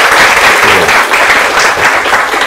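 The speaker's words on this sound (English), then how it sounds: "please join me to give a big round of applause to Professor Duncan McCargo." Loud, dense audience applause fills a hall at the close of a 2018 panel discussion on Southeast Asian politics, a steady wash of many hands clapping for the whole stretch with no break.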